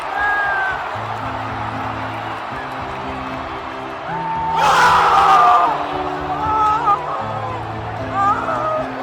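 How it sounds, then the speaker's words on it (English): An NBA arena crowd yells loudly, then the noise swells and sinks into groaning murmurs, with whoops and cries rising over the dense, roaring mass of voices. "The yells in the arena turned into stunned groans real quick."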